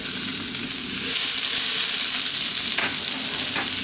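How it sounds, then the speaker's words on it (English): Ginger and garlic dropped into a hot smoking pan for broccoli fried rice, a close steady sizzle that swells after a second, with a couple of short stirring scrapes near the end. "Let's start off by dropping in our ginger and our garlic"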